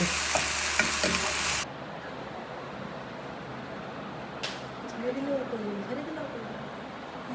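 Jute leaf greens fry in a pan and are stirred, making a loud, dense sizzle for the first second and a half that then drops to a faint, low crackle while a person talks.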